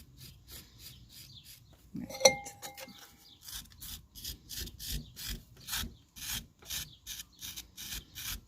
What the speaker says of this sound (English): use one of my turning tools as well. That's quite good for sort of just taking off any excess clay that we don't need